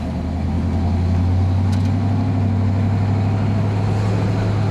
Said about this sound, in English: we're just taking a little quick drive around the block